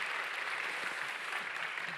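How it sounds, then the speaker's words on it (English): Audience applause for the panelists at a science and technology Nobel Prize dialogue in Seoul, a steady, even wash of clapping that holds throughout without letting up. "Let's have a round of big applause for our panelists."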